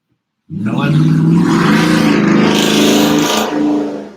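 A car with an LS V8 engine comes in loud and close, its deep rumbling exhaust revving hard and holding a strong roar for several seconds before easing slightly.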